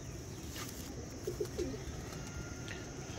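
A pigeon coos softly a few times in the middle of the stretch, a low throaty murmur set against steady background noise with no one talking.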